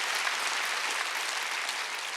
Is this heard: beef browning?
no